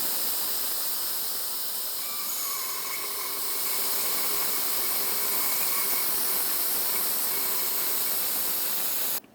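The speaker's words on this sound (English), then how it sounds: "For that, we can use a fluid extractor." A fluid extractor draws brake fluid out of the master cylinder reservoir of a 2015-2019 Subaru Outback, giving a steady, close airy suction hiss that holds level throughout and then cuts off abruptly at the end.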